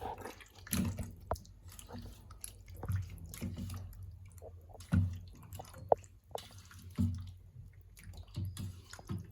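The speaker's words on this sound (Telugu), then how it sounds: "దీన్ని మొత్తం ముక్కలు పట్టే విధంగా కలుపుకుందాం" Chicken pieces are stirred and mixed with masala for curry, making soft, wet squishing and clattering sounds at irregular intervals, fairly close and moderately quiet.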